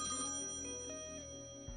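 An out-of-order payphone rings in the video game Thimbleweed Park with a continuous, bright electronic trill that stays fairly quiet and even throughout, with no voices.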